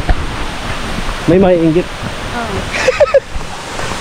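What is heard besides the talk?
water, waves or surf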